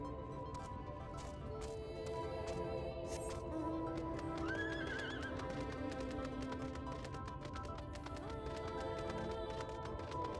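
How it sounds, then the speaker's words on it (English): A horse in Final Fantasy XIV whinnies midway through a long run of muffled game sound, with a steady background of clopping hooves and ambient music, all fairly faint. "The clop of a horse gallop kind of sounds similar to a train"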